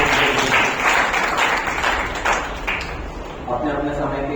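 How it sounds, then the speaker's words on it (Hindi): An audience applauds presenters called onto an award-ceremony stage, a dense wash of clapping that fades in the last second as a voice speaks over it. "उनके एक जोरदार तालियां"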